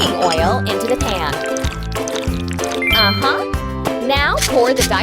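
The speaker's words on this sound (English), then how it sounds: "Let's pour some cooking oil into the pan." Cooking oil is poured into a pan in a street-food cooking mobile game, a short liquid pouring sound heard beneath cheerful game music and a speaking voice.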